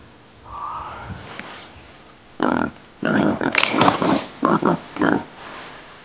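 A wild boar grunts and snorts in short, loud, close bursts, a faint squeal first and then a rapid cluster of harsh oinking grunts, with no talk.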